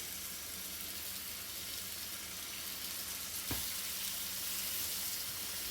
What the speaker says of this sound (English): that's the sear we want to hear